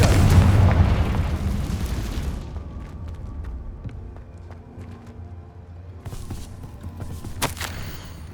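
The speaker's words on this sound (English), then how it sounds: "Confringo!" A Confringo spell explosion in Hogwarts Legacy: a loud, deep boom that slowly rumbles away over a couple of seconds, followed by quieter game noises and a late sharp burst.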